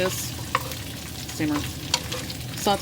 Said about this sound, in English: so we'll go ahead and saute